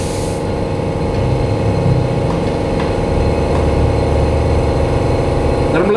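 A Honda Supra motorcycle engine runs steadily at close range, a loud continuous mid-pitched drone with faint intermittent pops that may be backfires.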